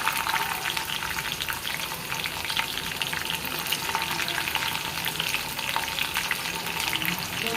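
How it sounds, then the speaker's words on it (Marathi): Chillies and garlic sizzle in hot oil for a fenugreek greens dish, a steady close crackling fry with occasional stirring, no talk. "आता एका साईडला मस्तपैकी लसूणच्या नंतर आपल्याला मिरची टाकून घ्यायची"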